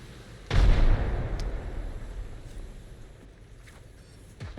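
A grenade in a competitive video game detonates with one loud, close boom, and a long rumbling decay fades away over several seconds.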